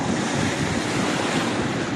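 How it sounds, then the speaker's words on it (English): Ocean waves surging onto Trafalgar Beach at low tide: a continuous, loud hiss and roar of breaking surf mixed with wind buffeting the microphone, steady with no pauses. "Quite scary to see the water coming at you, and it's like at chest height. But it dies down as it gets closer."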